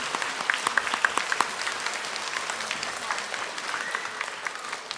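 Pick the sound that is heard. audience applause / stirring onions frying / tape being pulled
audience applause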